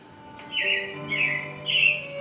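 Robin chirps play as a sound effect in Disney's Carousel of Progress show, three clear bright bird calls in a row over a soft, steady background.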